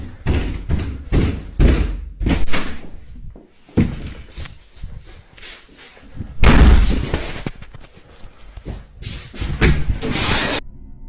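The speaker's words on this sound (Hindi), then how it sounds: "chyba od pół godziny cały czas mi coś nawala w drzwi." Repeated heavy bangs and thuds on a door, irregular and loud, some in quick clusters with rattling between, recorded close indoors without talk.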